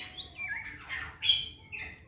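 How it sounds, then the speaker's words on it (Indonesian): White-rumped shama calls: a few bright, whistling chirps and short warbled phrases from two birds, moderately faint, with no other sound around them. "Ini ada dua murai batu"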